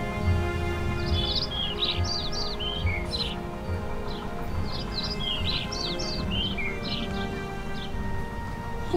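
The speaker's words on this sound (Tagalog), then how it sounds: "Bakit ang daming ibon dito?" A flock of birds chirps and tweets in short bright bursts, with many calls overlapping in clusters over a steady bed of background music in a fantasy drama scene.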